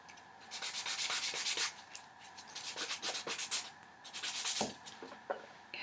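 A nail file rasping across Gel-X nails: close, steady back-and-forth strokes in quick rhythmic bursts, with brief pauses between runs.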